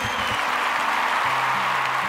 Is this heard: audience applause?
yes